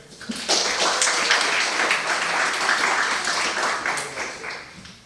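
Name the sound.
audience applause at student meeting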